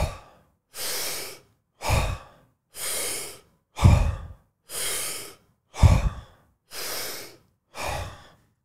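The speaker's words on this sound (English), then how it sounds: "we're going to do 3 rounds of 5 breaths" Deep diaphragmatic breathwork breaths, eight forceful rhythmic inhales and exhales in close succession, each a loud airy rush separated by short silences, close and alone with no talk.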